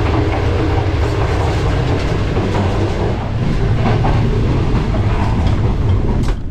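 An overnight train bound for Lahore in Pakistan runs on its rails with a loud, continuous rumble and rhythmic clickety-clack close at hand, and no one speaks.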